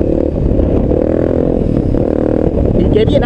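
Voge 300 Rally motorcycle ridden off-road on dirt terrain with its ABS turned off, a steady, loud engine drone mixed with gravel clatter and scraping.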